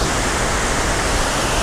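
A waterfall in the Höllschlucht gorge roars as a dense, unbroken wash of noise, loud and close, with no talk.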